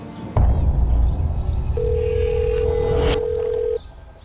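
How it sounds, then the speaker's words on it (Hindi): A phone line hums as a single steady tone sounds for a couple of seconds over background noise, then stops with no answer. "अब देखो रिंग जा रही, फोन ही नहीं उठा रहा।"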